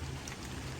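Steady rain pours down in a garden during a hurricane, a dense continuous hiss with a low rumble underneath and no other sounds over it.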